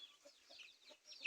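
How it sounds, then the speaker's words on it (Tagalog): Chickens on a small backyard poultry farm cluck softly and intermittently, a few faint, close calls scattered over quiet. "ito ang kanilang mga manok"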